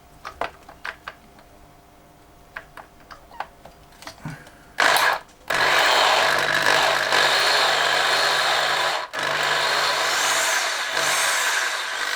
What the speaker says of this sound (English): Maybe that was too close to the first size that I drilled. I'll go up another size and try that.